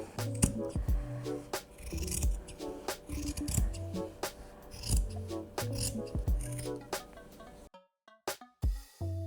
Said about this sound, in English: So then you'll cut through one and then use that as your guide to cut the other leg.